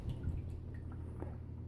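Water dripping and trickling in a DIY aquarium flow diffuser with a low water level and a floating pothos plant, a few soft faint drips over a steady low hum.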